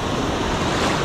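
Waves break hard against the shore at a bass fishing spot, a steady close roar of surf with wind buffeting the microphone throughout, with no voices.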